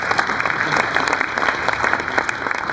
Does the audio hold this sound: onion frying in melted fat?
no